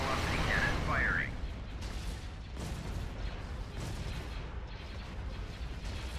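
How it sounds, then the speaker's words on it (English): Hypervelocity cannon fire in a Thrawn's Revenge mod space battle, heavy booming blasts layered in a dense, continuous barrage of explosions, with a brief electronic warble near the start. "Hypervelocity cannon firing."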